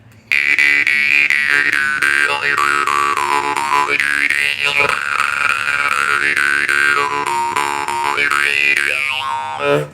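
A loud, Yakut-made jaw harp twangs with a steady bright drone, its overtones sliding up and down in a rapid rhythmic pattern, played up close and alone.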